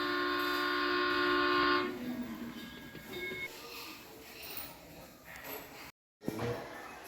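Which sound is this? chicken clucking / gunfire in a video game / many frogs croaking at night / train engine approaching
train engine approaching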